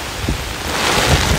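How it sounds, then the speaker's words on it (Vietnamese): Heavy, wind-driven rain during a historic afternoon storm on July 13 lashes down in a loud, continuous roar, with blustery gusts buffeting the microphone and no voices over it. "Trời ơi, mưa tạt quá, tạt quá."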